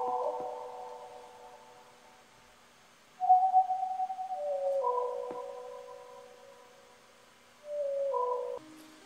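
A melodic sample slowed by a lowered sample rate in an audio editor, heard as long, low, warbling sustained tones that glide between pitches, with swells and soft fades and no voices.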